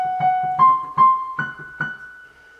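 Piano playing the opening of a piece from Twilight, six clear notes struck in pairs, each pair pitched higher than the last, with the final note left to ring out.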